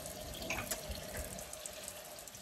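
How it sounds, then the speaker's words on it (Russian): Water runs steadily from a low garden faucet outdoors, a soft continuous stream with a few faint splashes. "Как мне нравится мой кран, вы не представляете."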